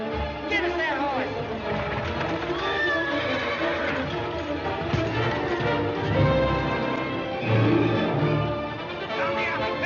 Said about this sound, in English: There's a horse! Get it!